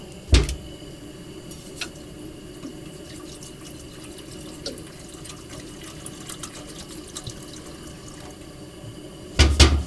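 Water pours steadily from a bottle into a small pot on a camp stove burner in a continuous splashing stream, with a few sharp knocks at the start and end.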